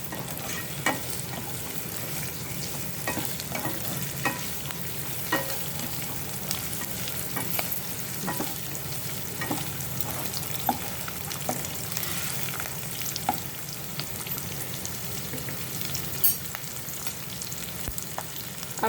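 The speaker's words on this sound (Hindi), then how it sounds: "हमें जल्दी जल्दी बस हिलाना है, इसे अच्छे से सॉटे कर लेना है इसे" Paneer chilli is stir-fried in a pan, giving a constant close sizzle with frequent quick clinks and scrapes as the pieces are tossed briskly throughout.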